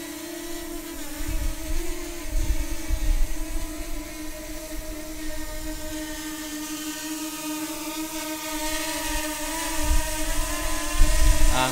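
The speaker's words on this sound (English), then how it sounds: "So I'm just going to bring the aircraft back again now." A DJI Mavic Air drone fitted with Master Airscrew propellers hovers and flies nearby, its steady high-pitched whine rising and falling slightly as it approaches.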